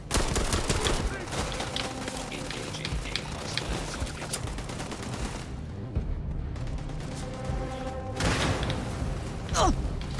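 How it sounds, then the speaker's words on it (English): Heavy gunfire in the space RPG Starfield: rapid bursts of automatic shots and booms, loud and sustained, briefly easing before another burst near the end, with voices talking underneath. "Are you guys shooting like that crazy?"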